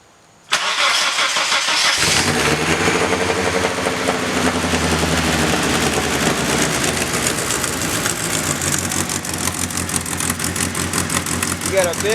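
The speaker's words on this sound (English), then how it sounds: "You got a big exhaust leak, let it run though, that's good." A cammed second-generation Mitsubishi Eclipse making about 600 horsepower cranks and fires, then runs with a loud, steady, rough idle through a big exhaust leak, close by and continuous to the end.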